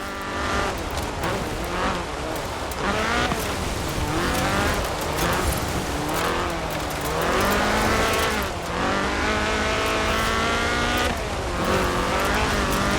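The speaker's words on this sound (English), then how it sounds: "a car designed explicitly for rallying, with a powerful fuel-injected 1790cc Cosworth BDE engine" A Ford RS 1800 rally car with a fuel-injected 1790cc Cosworth BDE engine is driven in Forza Horizon 4. The engine revs hard and loud, rising and dropping through repeated gear changes with brief tire squeal throughout.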